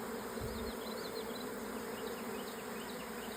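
Swarm of honeybees buzzing around a beehive, a dense continuous drone with individual bees whining past nearby, steady and moderately loud.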